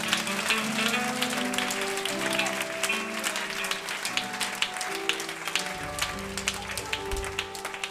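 A church congregation at Francophone worship claps its hands along with music, a steady stream of overlapping claps above sustained instrumental tones and low bass notes.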